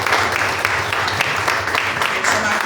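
A church congregation applauds in praise of Jesus during a service, a steady wash of clapping with faint voices mixed in across the whole stretch.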